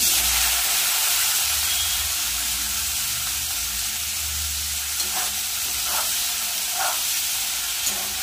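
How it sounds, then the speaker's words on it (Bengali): Sliced bitter gourd fries in hot oil in a wok, giving a continuous loud sizzle with a few soft stirring taps toward the end and no voices. "তেলটা গরম হলে আমি উচ্ছেটা দিয়ে দেবো তেলের মধ্যে।"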